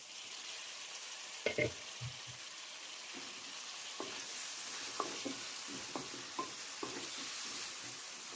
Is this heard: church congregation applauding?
no